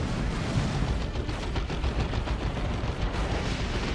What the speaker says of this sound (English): That seems to be a good shot though from the las cannon somehow.